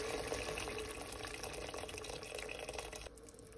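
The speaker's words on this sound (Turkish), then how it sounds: "Üzerine su ekliyorum. 4 su bardağı, 3-4 su bardağı civarı su ekleyip" Water pours steadily into a pot of sautéed spinach roots being made into soup, a continuous close splashing stream that cuts off near the end.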